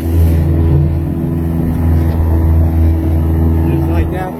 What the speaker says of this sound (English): You just pivot that motor over a little bit